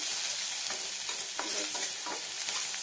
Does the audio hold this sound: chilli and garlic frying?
yes